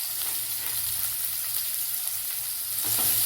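Onions for vada curry sizzle and fry steadily in a pan, a close, continuous crackle. It grows slightly louder near the end as they are stirred.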